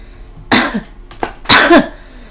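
A woman choking on water breaks into two harsh, close coughing fits, each a loud burst with a brief gap between them.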